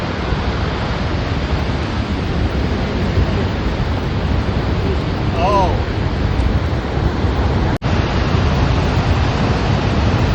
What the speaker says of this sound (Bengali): প্রবল বেগে নিচে পড়ছে প্রায় পাঁচশো ফুট নিচে পড়ছে এই পানিটি